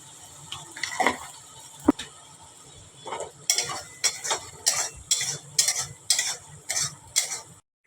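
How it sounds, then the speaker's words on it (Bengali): A spoon stirs spices through ridge gourd and potato curry in a pan, a string of rhythmic scraping strokes over a soft sizzle, close and fairly loud. "তো মশলাগুলো খুব ভালোভাবে মিশিয়ে নেব একটু ঝিঙে আর আলুটার সঙ্গে।"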